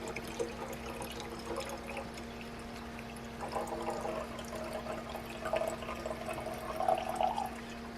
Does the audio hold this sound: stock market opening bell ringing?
no